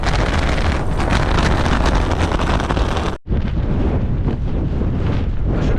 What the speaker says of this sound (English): the wind's blowing straight on the back of the tent. It's really rattling this hood bit here.